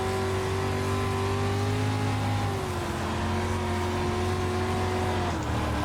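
Race car engines whine steadily and loudly throughout in a racing video game, with sustained harmonic engine tones shifting pitch as cars drive past close by, no talking.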